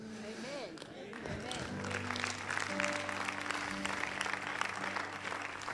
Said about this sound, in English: I was hoping for an amen or a hand clap.